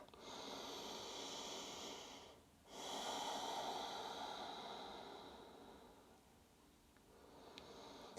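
Slow, deep breathing during a seated yoga stretch for low back pain: a long airy inhale, a brief pause, then a drawn-out, fading exhale, close and soft.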